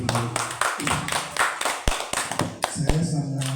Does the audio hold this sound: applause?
yes